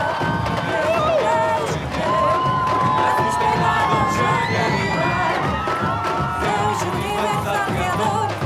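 Crowd at a Cape Verde carnival cheering and applauding the newly named carnival queen, loud shouts and whoops with children's voices over scattered clapping, continuous throughout.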